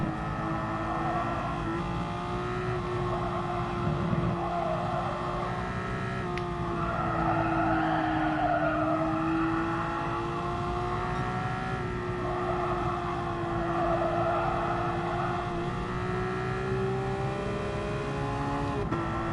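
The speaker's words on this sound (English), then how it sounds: "That guy's just casually sitting on the rev limiter." A Porsche race car engine sits on its rev limiter in Gran Turismo Sport during an endurance race. It gives a steady, buzzing high-rpm drone that wavers slightly, with no one talking.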